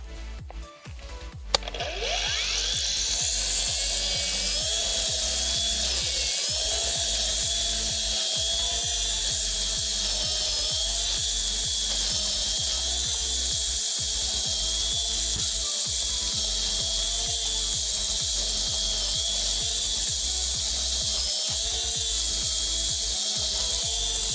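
A cordless Grand ATG-21 grass trimmer spins up and mows grass with its cutting line, giving a steady, close, high-pitched whine with brief regular dips as the line meets the stems.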